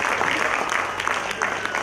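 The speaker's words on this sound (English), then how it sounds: "So please give a very good round of applause to all these teachers" An audience applauding teachers at a school annual day, a broad wash of clapping hands sustained through the moment, moderately loud with a hint of voices.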